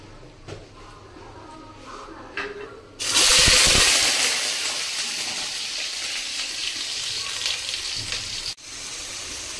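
Chopped potatoes hit hot oil already frying cumin seeds and a dried chili for a soybean and potato curry. A loud, sudden sizzle erupts and then settles into a steady, close crackling hiss.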